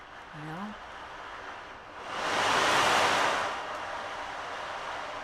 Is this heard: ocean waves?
yes